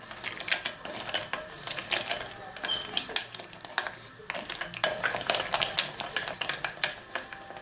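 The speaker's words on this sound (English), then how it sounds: "See, it's starting to melt, so I'm just going to stir it until the whole thing melts" A spoon stirring chocolate in a bowl set over boiled water, giving repeated light clinks and scrapes against the bowl in an irregular rhythm, close and fairly quiet, with no talk.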